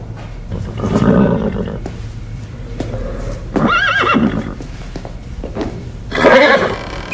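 A horse neighs in loud, shaky whinnies, repeating in bursts with quieter snorts and stable noise between them, close by and with no talking.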